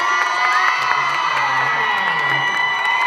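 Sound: audience cheering and screaming

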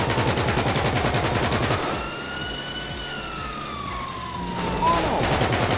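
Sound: minigun car firing at cops in GTA 5 video game

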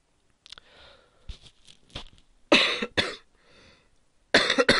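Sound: person coughing

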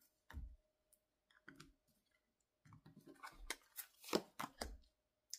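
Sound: drawing and laying out cards in a card reading

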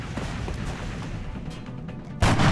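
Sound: soldier firing a weapon in the XCOM video game

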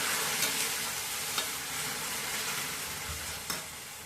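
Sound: milk poured into roasted wheat in pan

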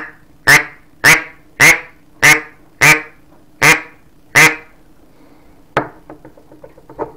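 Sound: Tall Timber duck call blown, imitating duck quacks

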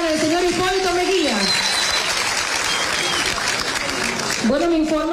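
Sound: applause for ex-president Hipólito Mejía

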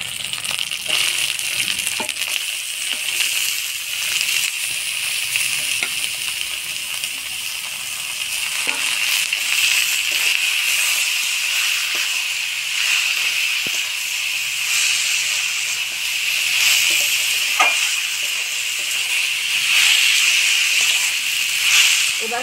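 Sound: ash gourd with fish head frying in pan

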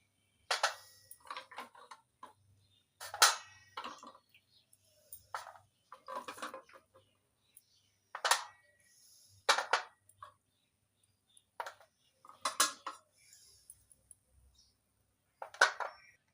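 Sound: washed clay oil lamps being picked up one by one

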